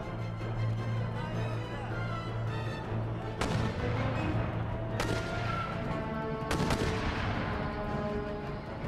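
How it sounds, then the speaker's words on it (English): Artillery cannon fire in the Empire Total War video game during a siege defence: three sharp booms spaced a few seconds apart over a dense battle din with a steady tone underneath. "Good, that artillery fire is going to be great help."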